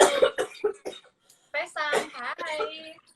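A few sharp coughs in quick succession, followed by a person speaking close by.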